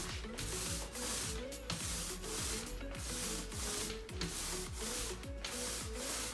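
A roller spreading thin metallic epoxy coating across a countertop: steady, close, repeated swishing rolling strokes in a back-and-forth rhythm, with no speech.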